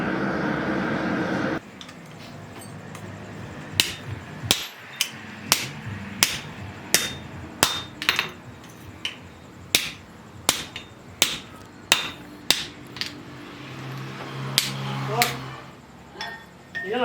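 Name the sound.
blacksmith hammering hot iron to forge-weld an axe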